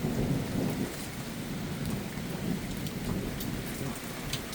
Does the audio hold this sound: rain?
yes